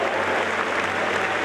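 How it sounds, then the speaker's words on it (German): A short burst of steady clapping from a crowd, dense and even throughout. "das ist dein Applaus für dich"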